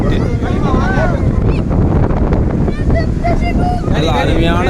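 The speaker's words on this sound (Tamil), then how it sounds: "இதில் காற்று அருமையாக வருது." Strong wind buffets the microphone in a continuous loud roar at Ravanan Vettu (Ravana's Cut), a hillside cut in Sri Lanka, with gusty rumbling throughout and a voice talking underneath.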